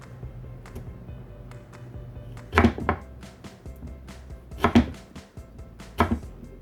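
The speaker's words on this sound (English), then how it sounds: "Turn it over, slice it into matchsticks." A knife slices taro into matchsticks on a cutting board, making soft rapid taps, with three louder thudding chops at even intervals near the end. The sounds are close and there is no talking.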